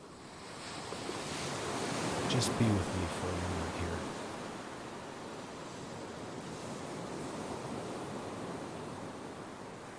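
Sea waves wash onto a sandy beach in a continuous, soft surf roar with gentle swells, while a calm voice speaks briefly over the water.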